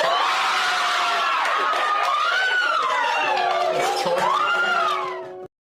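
A loud courtroom crowd erupts in sustained cheering and shouting at a not-guilty verdict, voices rising and overlapping for several seconds before cutting off abruptly.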